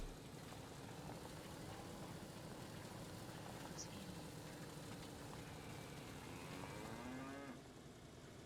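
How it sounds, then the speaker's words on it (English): A cow moos in a long, low call across an open field near the end, faint against a steady wash of wind and rumbling background noise. "I heard the cow."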